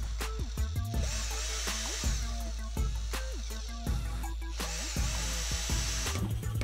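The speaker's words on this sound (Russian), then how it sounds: "По центру сделаю отверстие небольшим сверлом." A small power drill whirs in repeated short bursts, spinning up and winding down several times, with a grinding, high-pitched edge as it bores a hole through a wooden stick.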